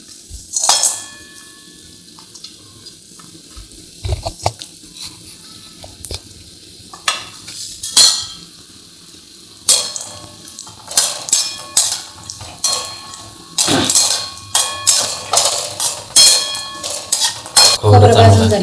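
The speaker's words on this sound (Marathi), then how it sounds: "आता तेल तापलं आहे आपलं. त्याच्यात आपलं हे खोबरं टाकून घेऊ." Grated coconut frying in hot oil for a mutton recipe, with a faint sizzle broken by repeated loud scrapes and clinks of a metal spoon stirring against the pan, growing busier toward the end.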